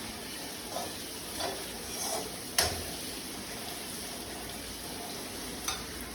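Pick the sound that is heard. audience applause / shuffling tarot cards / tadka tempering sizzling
tadka tempering sizzling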